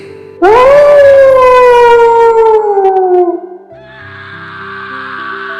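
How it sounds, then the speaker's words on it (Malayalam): A loud, drawn-out animal howl used as a sound effect in a Malayalam fantasy audio story. It rises and then slowly falls over about three seconds, echoing, and gives way to a softer, sustained wailing tone. No one speaks. "ഏതോ ഒരു മൃഗം ഓരിയിടുന്നതിന്റെ ശബ്ദം ആ പ്രദേശമാകെ പ്രതിധ്വനിച്ചു"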